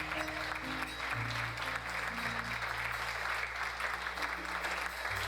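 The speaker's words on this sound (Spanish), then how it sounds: "déle un fuerte aplauso" Church congregation applauding during a pastor's sermon, a steady wash of clapping with a low musical drone and shifting organ-like tones underneath throughout.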